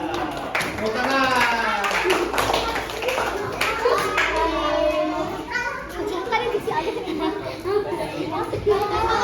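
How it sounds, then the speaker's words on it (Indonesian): Children in an elementary school classroom clap their hands in quick bursts amid lively chatter and kids' voices, the taps sharp and close over a busy, playful room. "Nah, tepuk tangan."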